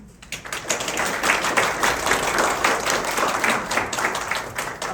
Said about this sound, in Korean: 저기 박수 주셨는데